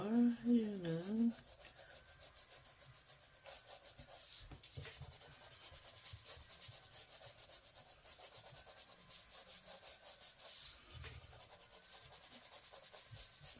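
Light, soft scratching of a pencil tip lightly stroking lines across paper, a faint continuous rubbing texture close to the microphone, preceded by a brief voice at the start.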